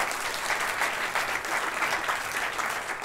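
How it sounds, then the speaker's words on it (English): Steady, dense applause from a comedy club audience for a comedian leaving the stage, continuous and even throughout with no talking over it. "Round of applause for Lance"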